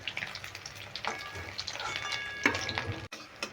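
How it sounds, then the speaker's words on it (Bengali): Egg pieces fry in oil in a pan for an egg and potato curry, giving a faint, soft sizzle with a few light clinks as they are lifted out. "দেখো ডিমের পিসগুলো আমি ভেজে তুলে নিচ্ছি ভাজা হয়ে গেছে"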